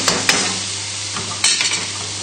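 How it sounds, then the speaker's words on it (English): Leeks sizzle gently in a frying pan as a utensil stirs and scrapes them in a few quick strokes, close and without speech. "just starting to get some colour on the leeks now"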